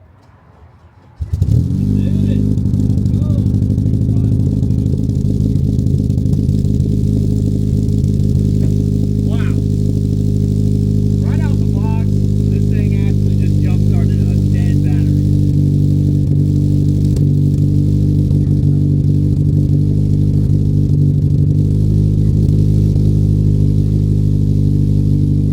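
Honda Civic Si, ninth generation, with a Tessuto catless downpipe and full race V-banded exhaust, starts up abruptly and settles into a loud, steady, deep droning idle with occasional light revs, close and continuous for the rest.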